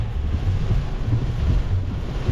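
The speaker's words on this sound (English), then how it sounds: "It's pretty windy here." Strong wind from Cyclone Jasper buffets the microphone in a continuous low roar, with no voices.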